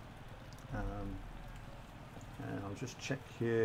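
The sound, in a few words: rain falling in Gran Turismo Sport video game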